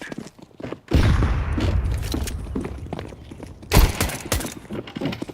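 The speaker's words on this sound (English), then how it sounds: "Grenade out." A grenade goes off in Counter-Strike 2: a sudden loud blast and rumbling tail, followed moments later by a second sharp burst amid scattered in-game clatter and footsteps.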